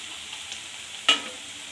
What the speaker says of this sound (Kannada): ಹಾಗೆ ಸ್ವಲ್ಪ ಕೈ ಆಡಿಸಿ ಸ್ವಲ್ಪ ಬ್ರೌನ್ ಆಗೋವರೆಗೂ ನೋಡಿ